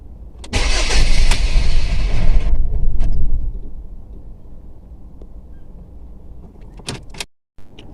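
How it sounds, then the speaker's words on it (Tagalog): A 2008 Ford Mondeo with a fuel pump fuse that keeps blowing cranks loudly for about two seconds, then falls to a quiet hum broken by a few clicks and clunks. "Let's start the engine"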